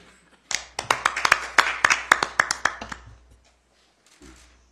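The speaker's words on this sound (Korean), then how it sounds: "박수 부탁드리겠습니다." A small group at a Democratic Party press event claps for a newly recruited candidate, a short burst of distinct, close hand claps in a quick irregular rhythm that builds and then fades out after about three seconds.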